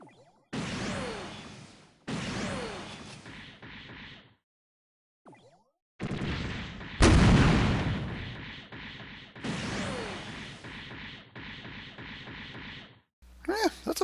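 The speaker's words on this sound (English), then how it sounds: "when it fires off its beam cannon" Triple beam-cannon volleys from the Gundam Zabanya in SD Gundam Online: loud, sharp blasts and whooshing bursts recur in clusters with brief silent gaps, one heavy booming impact near the middle, all without speech.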